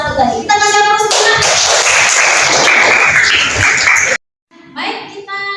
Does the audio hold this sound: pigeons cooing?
no